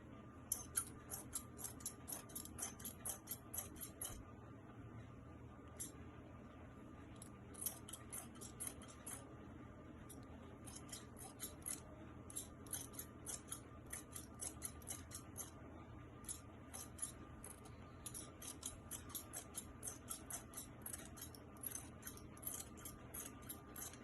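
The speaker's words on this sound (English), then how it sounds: "And then I'll also cut the side of the dress." Scissors cut through dress fabric in quick bursts of crisp snips, clustered in runs with short pauses between, close and fairly quiet with no talk.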